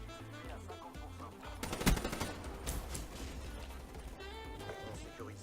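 Rapid automatic fire from the HVK-30 assault rifle in Black Ops 3, dense bursts of gunshots with a loud peak and impacts, mixed with game noise and a voice talking.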